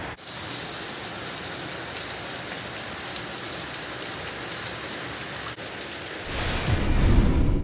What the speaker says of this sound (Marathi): सायंकाळी अचानक आलेल्या पावसाने अनेकांची तारांबळ उडाली